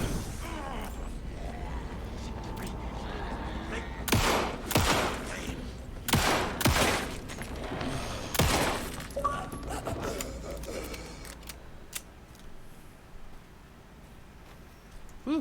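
Gunfire in the video game Alan Wake 2, several sharp loud shots spaced a second or two apart amid mechanical creaks and clicks of handling, then a quieter tail with a final shot at the end.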